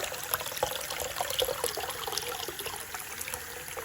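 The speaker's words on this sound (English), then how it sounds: "we're gonna fill up the bucket, or fill up the sink" Warm water runs from a tap into a sink for a chicken's bath, a faint, close trickle with small splashes and gurgles and no talking.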